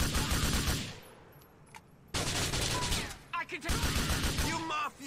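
Heavy automatic gunfire from a firefight in the biker game GTA The Lost and Damned, dense bursts filling the scene, breaking off briefly before resuming as loud sustained fusillades with sharp individual shots.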